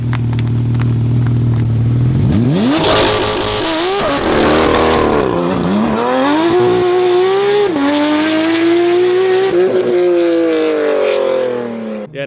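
A Porsche 992 GT3 RS fitted with a titanium exhaust idles low, then revs hard several times, the pitch climbing and falling in loud sweeping blips at close range.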